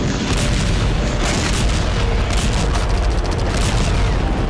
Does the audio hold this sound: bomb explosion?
yes